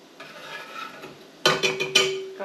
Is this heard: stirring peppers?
yes